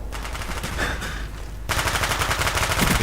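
Rapid automatic gunfire from a Call of Duty: Black Ops multiplayer match, dense rattling bursts that start fairly loud and then swell into a louder, continuous volley of shots.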